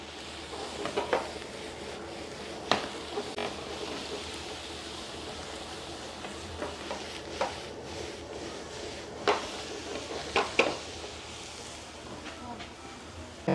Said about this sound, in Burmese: ကြော်မယ်